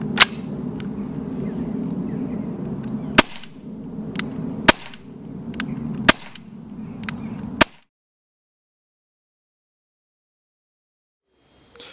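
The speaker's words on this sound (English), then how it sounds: "there is no finer way to do it than with the Walther CP99 air pistol" A Walther CP99 CO2 air pistol fires in a back garden, giving about half a dozen sharp, loud cracks spaced a second or two apart, followed by near silence.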